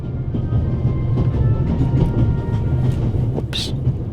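Steady rumble and rattle of a rocking train carriage in the video game The Raven Remastered, continuous and close, with a brief bright clink near the end.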